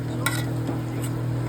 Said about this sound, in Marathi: आता हे एकजीव करून घेऊया आपण